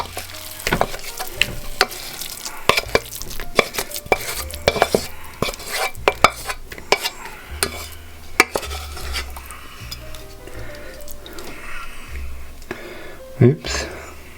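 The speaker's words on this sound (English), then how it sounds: "we're going to mix this with our other ingredients in the bowl to form the filling for our pie" Vegan Mexican tofu pie filling is stirred together in a bowl: a spoon scrapes and knocks against the sides in irregular clacks and clinks, with a louder clatter near the end.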